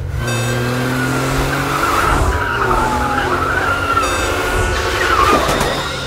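In a movie scene, a car drives fast with continuous engine roar and long, loud tire squeals and skids sweeping across the whole stretch, no talk over it.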